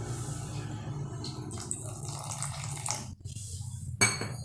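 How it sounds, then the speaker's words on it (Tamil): Water trickles into flour as dough is mixed in a bowl for kara sev, a soft running pour with clinks of utensils and vessel against a low steady hum, ending with a brighter splash. "இப்போ நம்ம கொஞ்சமாக தண்ணி விட்டு எடுத்துக்கலாம்"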